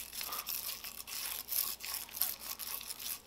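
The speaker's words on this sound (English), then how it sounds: "And you can just use a toothbrush or something instead." A toothbrush scrubbing a rifle muzzle device, a steady back-and-forth bristly rasp in repeated close strokes, fairly loud and continuous with no talking.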